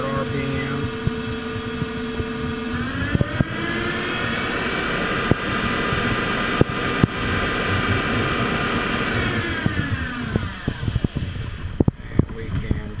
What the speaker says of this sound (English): Now we'll go to the max spindle speed of 2500 RPM.